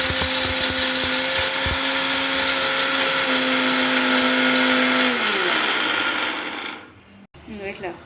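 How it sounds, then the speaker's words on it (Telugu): A kitchen mixer grinder whirs loudly and steadily while grinding roasted peanuts and sesame seeds, its motor pitch dropping as it is switched off near the end, followed by brief clatter. "పల్లీలు, నువ్వులు, అవి ఒకసారి మిక్సీ పట్టుకుందాం."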